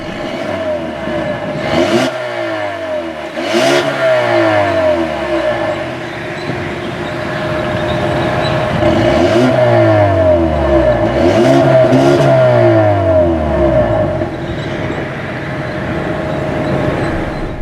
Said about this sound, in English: let's have a listen to that exhaust note